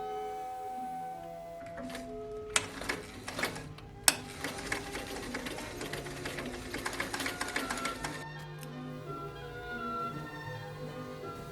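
A sewing machine runs for several seconds stitching a circle skirt seam, a fast rattling mechanical whir with a few sharp clacks as it starts, then stops and leaves a quieter hum.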